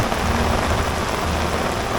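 Heavy rain pours steadily and loudly over Ratargul swamp forest in Sylhet during a flood, a dense constant hiss with no pauses.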